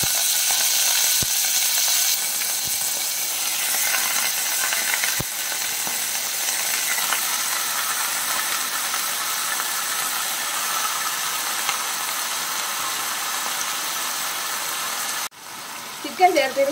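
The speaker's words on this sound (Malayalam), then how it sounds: "ഈ എണ്ണ ചൂടായി കഴിഞ്ഞാൽ നമുക്ക് അതിലേക്ക് നമ്മൾ കഴുകി വെച്ചിരിക്കുന്ന ചിക്കൻ ചേർത്ത് കൊടുക്കാം" Chicken dropped into hot oil in a pan for pepper chicken, giving a loud, steady sizzle with a few sharp knocks early on, close by; the frying stays even throughout and cuts off near the end with a brief clatter.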